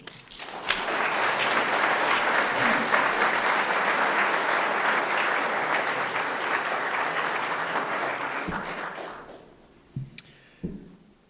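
An audience applauds steadily and loudly for a guest speaker at an evening event, a full room of clapping that lasts about nine seconds before fading out, followed by a few isolated thumps.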